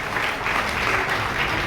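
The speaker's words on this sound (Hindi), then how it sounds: "जोरदार तालियों से आप इन क्षणों का" Steady, dense clapping from a large audience at a religious saints' gathering during a world-friendship festival, continuous and fairly loud throughout.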